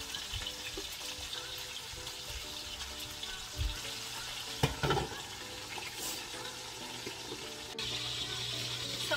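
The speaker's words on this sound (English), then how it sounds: "So while the sausage is cooking, frying." Sausages frying slowly in a pan at home give a steady, soft sizzle, with occasional clinks and stirring sounds over the crackle.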